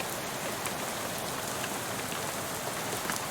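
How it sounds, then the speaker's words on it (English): Steady rain spatters against a bus window in the video game Shadows Over Loathing, a dense, even patter of drops with no voices over it. "soon you're dozing off to the sound of rain spattering on the window beside you"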